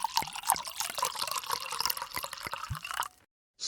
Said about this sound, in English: I crack open a beer and pour my co-workers the traditional Chardonnay.